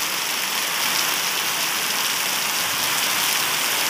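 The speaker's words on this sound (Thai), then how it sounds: "ฝนกระหน่ำอย่างหนักเลยครับตีสองสามสิบสามนาทีนะครับ" Heavy rain pours down steadily at night, a dense, loud and unbroken hiss of water with no let-up and no voices.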